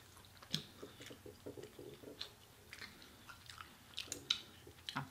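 Wet chewing and crisp biting of chicken wings during a sampler-platter eating session, close and steady with irregular crunchy bites and squishy mastication, no talking.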